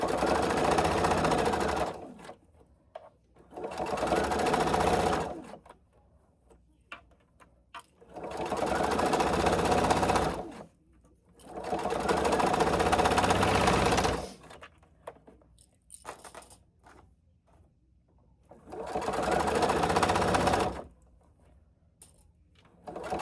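A sewing machine stitches a seam on a small fabric travel case in five separate runs of rapid, close needle chatter, each a few seconds long, with quiet pauses and faint handling between.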